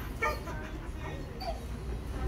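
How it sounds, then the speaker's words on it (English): A dog in a Petco pet store whimpers and gives a few short, high yips at close range, with quiet talk in the background. "The dog."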